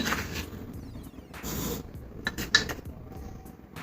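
A spoon adds sugar to badam milk in a pan, giving a few light metallic clinks and scrapes that stay faint in a quiet kitchen.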